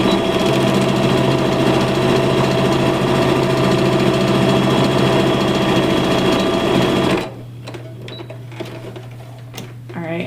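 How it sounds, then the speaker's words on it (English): A sewing machine stitches red and white strips to the blue section of an American flag quilt block, running fast and loud for about seven seconds before stopping and leaving quieter handling sounds. "So now I'm just going to go ahead and sew these red and white strips to this blue part of the American Flag Quilt."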